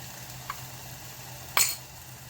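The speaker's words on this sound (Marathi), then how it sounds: "आणि परतून घ्यायचं छान मसाला, कारण कच्चाच आपण वाटलेला आहे त्याच्यामुळे परतून घ्यायचा" Raw ground masala with turmeric and asafoetida sautéing in a pan: a soft, steady sizzle with a faint clink near the start and a sharper utensil scrape or clink later.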